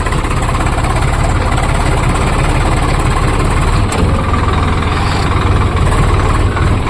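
A farm tractor engine idles loudly and close by, a continuous low chugging throb with steady vibration throughout, while being shifted into reverse for a U-turn.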